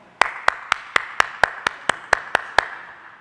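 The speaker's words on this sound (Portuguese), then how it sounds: "Essas palmas são de quê?" A church congregation claps hands in unison, about eleven sharp, evenly spaced claps at a steady brisk rhythm, loud and close, then stopping.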